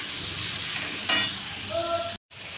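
Potato and pointed gourd curry (aloo potoler dalna) sautés in a pan, a steady close sizzle with one sharp stirring scrape, a faint tone and a brief cut to silence near the end.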